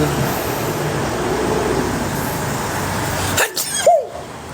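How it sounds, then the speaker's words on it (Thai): A single close, sharp human sneeze bursts out near the end, following steady roadside traffic rumble, with a brief tonal squeak just after. "จามแล้วทุกคน"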